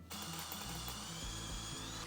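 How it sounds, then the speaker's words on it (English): A power drill bores a 1/4 inch hole in a 4L80E transmission pump during a shift kit install, a steady whining motor with a grinding bite as the bit cuts, alone and close. "So just get your drill bit, drill it to a 1/4 inch, and that's pretty much it."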